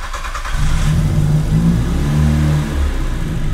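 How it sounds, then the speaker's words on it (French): Volkswagen Golf 4 GTI engine catching as it starts, then revving up and settling into uneven mid-pitched rises and falls, loud and close with no talking. "Donc là, on va essayer de démarrer la voiture."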